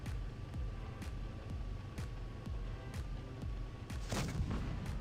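Tank cannon fire in a World of Tanks Blitz tournament match: repeated sharp booming shots at irregular intervals over a steady rumbling engine and battle bed, with a louder cluster of blasts near the end.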